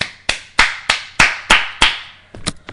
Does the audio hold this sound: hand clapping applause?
yes